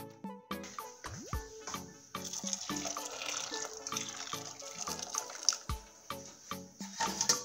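Water runs and splashes into a cooking pot close by in a kitchen, mixed with clinks and clatters of kitchen utensils.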